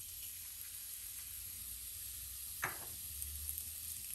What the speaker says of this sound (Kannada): ಎಣ್ಣೆ ಬಿಸಿ ಆಗಿದೆ. ಸ್ವಲ್ಪ ಜೀರಿಗೆ ಹಾಕ್ತಾಯಿದ್ದೀನಿ.